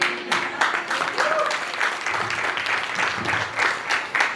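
Audience applause at a traditional Marathi baby shower (dohale jevan) ceremony, a steady wash of many hands clapping that continues throughout with no pauses, with a faint voice or tone briefly underneath.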